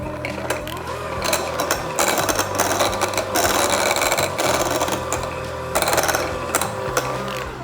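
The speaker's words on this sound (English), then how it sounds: "you can see it just kind of peels off there and starts whipping" Butter being whipped for honey butter with an electric mixer, a steady loud motorized whir with rattling and clattering against the bowl, continuous throughout without talk.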